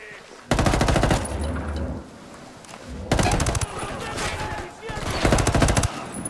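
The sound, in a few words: gunfire in video game Ghost Recon Wildlands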